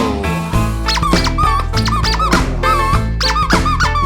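Rapid, loud squeaks from a squeaky toy play in a jumpy rhythm over a musical backing.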